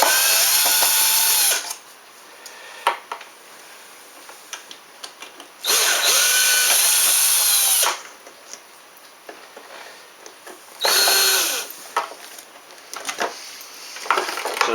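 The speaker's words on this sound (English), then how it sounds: "we'll use the hurry up wrench because I'm taking it out now." Power drill backing a screw out of a model wing build, three separate high whirring bursts of about two seconds each, loud and close, with quiet handling clicks between them.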